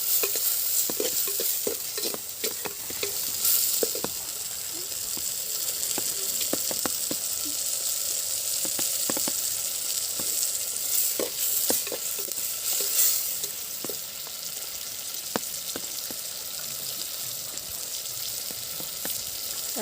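Tomatoes sauté in a pan for a Chettinad country chicken curry, giving a steady, close sizzle with frequent scraping stirs of a spoon against the pan and no talking.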